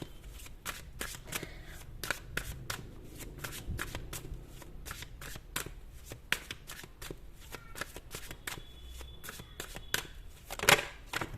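Tarot cards are riffled and shuffled by hand in quick, dense, crisp bursts, close and fairly quiet, with a sharper snap near the end.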